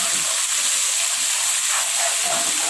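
Blended chili, shallot, garlic and ginger paste is stirred in a hot pan for pempek pastel with young papaya, producing a loud, dense, continuous sizzling hiss throughout.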